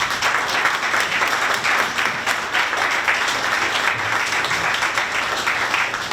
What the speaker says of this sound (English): please join me in giving a round of applause for the supporters and sponsors of tonight's event